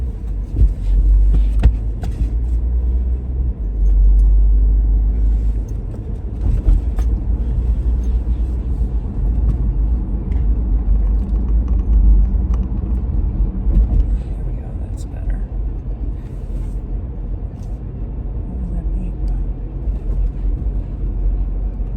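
Inside a moving car carrying a St Bernard, a deep, steady engine and road rumble fills the cabin, a continuous low drone with slight swells and occasional small knocks.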